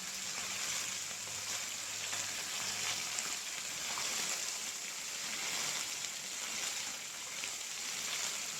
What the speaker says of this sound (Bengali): মশলাটা ভাজা হতে হতে এখানে দিয়ে দেব স্বাদ অনুসারে লবণ